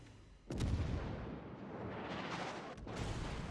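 A Musashi battleship in World of Warships fires a heavy gun salvo: one sudden, loud, deep boom that rolls into a sustained rumble, with a second sharp blast near the end.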